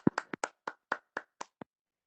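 Roughly ten separate hand claps in a quick, slightly uneven rhythm at a monthly community meeting, quiet and close, stopping abruptly with silence after.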